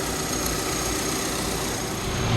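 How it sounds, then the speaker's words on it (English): A car's A/C compressor runs under the hood with the engine going, producing a steady, loud mechanical whir and hum with no pauses and no voices. "I'm just going to confirm that this compressor is being commanded on before I begin to recover the system."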